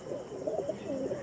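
A short-sized pigeon coos softly nearby, a low rolling murmur that repeats in a steady rhythm over quiet background hum.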